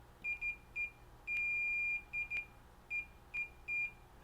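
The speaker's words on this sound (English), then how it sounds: "I get a beep." Continuity tester on an NES board gives a series of clear high-pitched electronic beeps, short and longer tones in an irregular pattern, close and alone.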